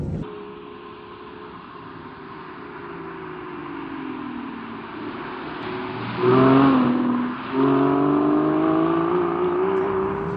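An Aston Martin V12 Zagato engine revs hard, its roar climbing and surging loudly near the midpoint before settling into a sustained growl.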